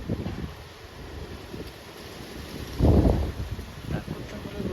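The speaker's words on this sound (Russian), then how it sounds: "Смотрите, какой ветер сильный." Strong storm wind batters a garden with a cherry tree during a storm warning, roaring and buffeting the microphone in uneven gusts with one heavy blast midway, while a voice talks intermittently beneath it.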